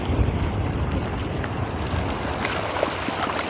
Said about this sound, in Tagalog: Mahangin eh.